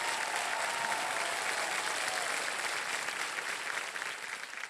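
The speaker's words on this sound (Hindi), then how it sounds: "सोनल जी को ताली बज जाए एक बार जोरदार" A studio audience on the KBC quiz show claps loudly for contestant Sonal, a dense, steady wall of applause that fades slightly at the end.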